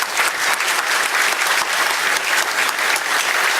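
A crowd at an awards dinner applauds to welcome a bishop, a dense, steady round of clapping filling the hall at even loudness throughout, with no voices over it.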